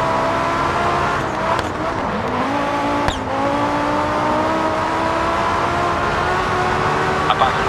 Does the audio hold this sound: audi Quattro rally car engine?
yes